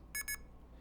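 A red box imitates payphone coin tones for a dime, giving two short, bright electronic beeps in quick succession, clear and alone over a faint low hum.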